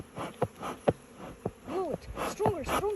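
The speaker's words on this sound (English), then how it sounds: "there's a lot of bees" Honeybees swarm and buzz loudly during a beehive inspection, their droning rising and falling in wavering sweeps as individual bees fly close past, with brief snatches of voices mixed in.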